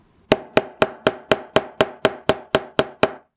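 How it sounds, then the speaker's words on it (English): A hammer strikes wire flat against the end of a block while shaping a hammered heart ring: about twelve sharp, evenly spaced metallic taps, close and ringing slightly, with no talk. "Maybe 4 or 5 times with the hammer till it's nice and flat."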